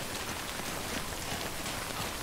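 Rain falls steadily in a video game, a dense, even hiss of drops hitting surfaces at constant level with no pauses or voices.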